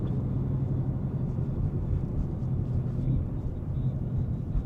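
A 2024 Ford Mustang GT with its 5.0 V8 engine drones as a steady low rumble from inside the cabin while driving, fairly subdued and with no talking.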